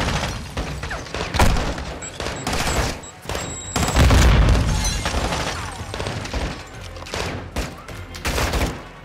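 In Call of Duty Modern Warfare 2, a loud grenade explosion booms amid bursts of rapid gunfire, with dense crackling shots filling the scene before and after the blast.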